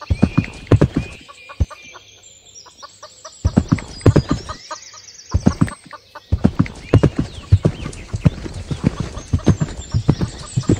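A ridden horse trots along, its hooves beating a steady, close clip-clop rhythm throughout, with faint bird calls in the background.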